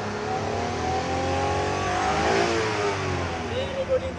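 A Japan surplus vehicle's engine revving up and easing back close by, a rising and falling mid-pitched roar, with people talking over it.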